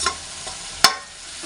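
Tomatoes frying in oil for a chicken gravy give a steady, close sizzling hiss, broken once by a brief sharp scrape of a utensil against the pan.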